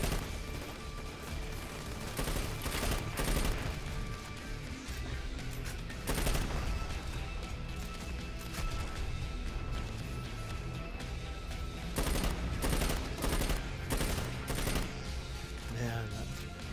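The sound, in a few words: gunfire in the video game Dirty Bomb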